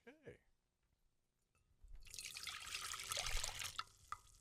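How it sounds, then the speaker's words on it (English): Tea is poured into a cup, a steady splashing stream lasting about two seconds that ends with a few drips, heard close up after a brief word from a voice in a quiet room. "Oh, we pour it so well. It sounds the same every time."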